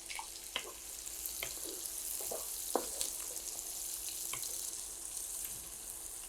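Onion sizzles in a pan for chicken curry, a soft, steady frying hiss with occasional small pops and crackles, faint and close.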